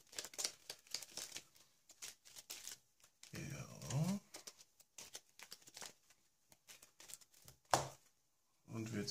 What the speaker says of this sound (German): Dafür müssen wir erstmal den Ablagestapel einmal wieder mischen.